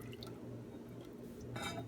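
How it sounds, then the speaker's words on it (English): Half and half poured into melted butter in a pan, a soft liquid splash and trickle, close and quiet, with a brief gurgling surge near the end. "Ariel is going to take and pour in a half a cup of half and half"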